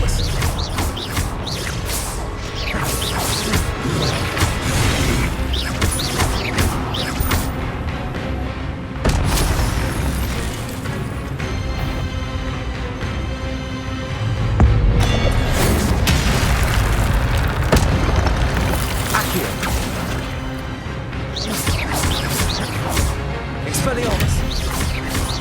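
Repeated spell impacts and magical blasts from Hogwarts Legacy combat, booming bursts recurring through a dense, loud mix of game effects and music with voices present throughout.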